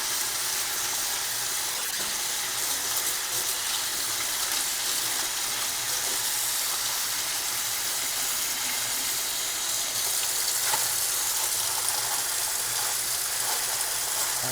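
Onions frying in a pan give a constant loud, even sizzle with a steady hiss and no breaks, close up, without any talk over it.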